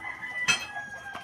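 A chicken gives a brief cluck and a short crowing call near a wooden coop, faint and close, with a second soft call just after.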